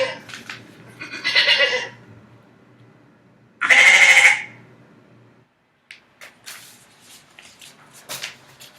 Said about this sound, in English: Now, the goat and the sheep.